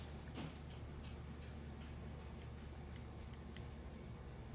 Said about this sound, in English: And then you trim off the extra.